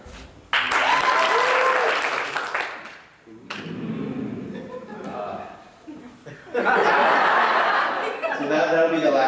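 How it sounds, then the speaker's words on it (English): A crowd at a school clapping on cue in bursts: a loud wave of applause, a quieter stretch with voices and chuckling, then a second strong burst of clapping with laughter mixed in. "So this is clapping"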